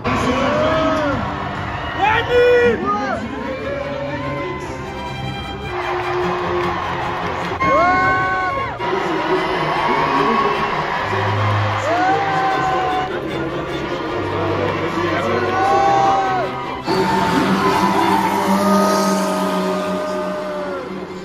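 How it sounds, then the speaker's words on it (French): A large crowd at the GP Explorer motor race roars, screams and cheers loudly and continuously, with whoops and shouts rising above the dense wall of noise. "Et le public a explosé, tout le monde crie."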